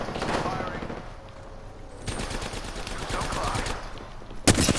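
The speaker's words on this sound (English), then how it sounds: "Somebody shooting at us? Shoot. Yeah, shit. Yeah. We're getting sniped." Gunfire in the video game Apex Legends, with rapid bursts of shots and a sharp crack near the end, heard under excited voices.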